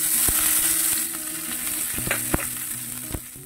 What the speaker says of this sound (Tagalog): naglagay na tayo ng mantika, mainit na. Pagsabayin ko na ilagay ang bawang sibuya.